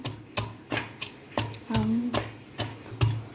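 Biscuits pounded into powder for biscuit ice cream, eight sharp thuds at a steady beat, close and distinct, with a brief tonal scrape in the middle.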